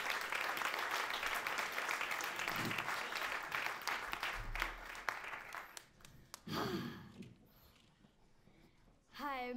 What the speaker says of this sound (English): On applaudit bien fort Swan